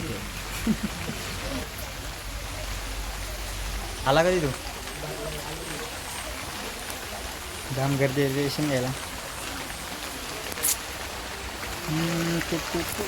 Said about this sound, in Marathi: आज मला वाटतं पाऊस पूर्ण दिवसभर पडत राहणार जोरात पडतोय